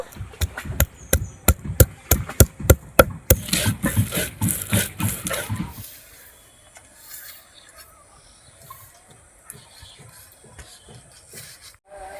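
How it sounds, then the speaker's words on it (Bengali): Ginger being ground on a stone grinding slab, with repeated sharp rasping scrapes in a steady rhythm for several seconds, then quieter soft rubbing and faint handling noises, close and alone. "আদাটা এবারে বেটে নেবো"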